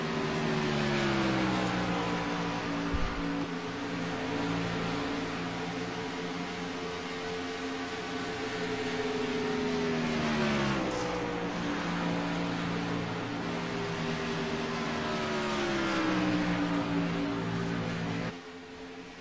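Several race cars circle a track during a race, a steady engine drone with rising and falling pitch sweeps as cars pass, loud and continuous with no talking.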